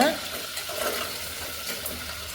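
Ingredients fry in oil in a pan for sambar served with ragi mudde, a close continuous sizzle with light stirring scrapes and no talk.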